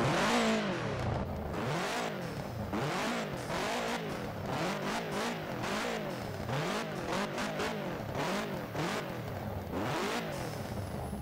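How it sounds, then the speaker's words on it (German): A Subaru WRX in Forza Horizon 4 fires up and revs hard again and again, its loud engine note rising and falling in a steady rhythm of throttle blips, close up with no talking. "wir werfen den Wagen einfach mal an."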